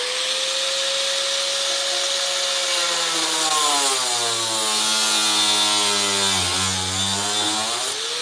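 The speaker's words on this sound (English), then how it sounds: "This cutoff wheel is at the end of its life." A worn cutoff wheel grinds through metal, loud and close, its whine slowly dropping in pitch as it bogs under load, then recovering slightly near the end; no one speaks.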